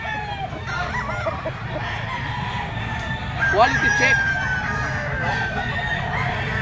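A gamecock rooster crows once in the middle, set against steady background noise and murmuring voices at a game farm sale.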